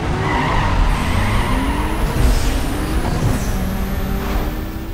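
A Mitsubishi Eclipse races in the Need for Speed Underground 2 video game, with loud steady engine roar, tire squeal and skidding rising and falling throughout, with no talk.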